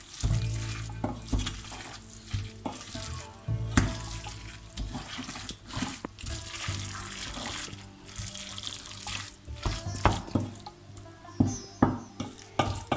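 Meat filling stirred in a pan for a Moroccan dish: continuous sizzling and frying with repeated scraping and stirring clatter, uneven and fairly close, with no voices.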